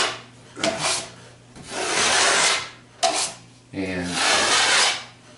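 A drywall knife smoothing joint compound over a butt joint in drywall, giving repeated long scraping rubs in bursts of a second or so, close and fairly loud, with a brief spoken word at one point.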